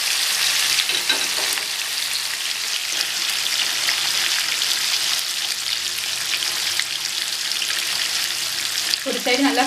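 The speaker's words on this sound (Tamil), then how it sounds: "மீனை ஃப்ரை பண்ணி எடுத்துக்கலாம்." Fish frying in hot oil in a pan, a dense continuous sizzle and crackle that stays steady and close, with a soft clatter near the end and no talking.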